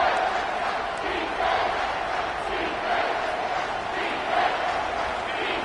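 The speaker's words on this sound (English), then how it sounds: "Decibels rising as the crowd gets behind this defense on third down." Football stadium crowd roaring steadily behind the home defense on a third-down play, a loud, sustained wall of cheering with no clear break.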